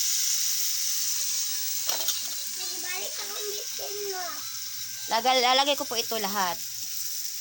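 Prawns dropped into a pan of softened frying tomatoes, a steady sizzle running throughout beneath someone speaking, with a sharper burst of frying and stirring near the end.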